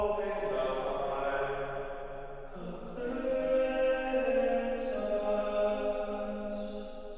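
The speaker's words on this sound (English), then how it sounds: "That reverb sounds like this by itself." Soloed vocal reverb send using the Valhalla VintageVerb Palace Ballad Snare preset: a washy, sustained wet reverb tail of a sung melody with shifting pitches, smooth and airy, heard on its own.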